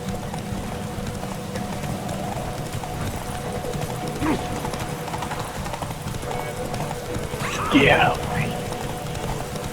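Horse hooves clip-clopping at a gallop in the Witcher 3 game, a steady rhythmic patter under a man's spoken line, with a brief louder burst near the end.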